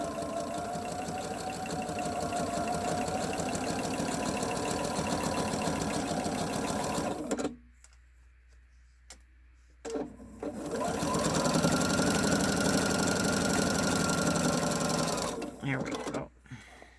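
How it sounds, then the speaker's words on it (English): A sewing machine fitted with a walking foot stitches a pot holder quilt, running steadily and close for several seconds, stopping briefly, then starting again with a similar continuous whirring drone. "so I'm going to just sew along."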